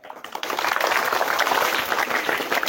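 Classroom applause at a village school breaks out after a brief pause, quickly swelling into brisk, dense clapping that continues steadily to the end.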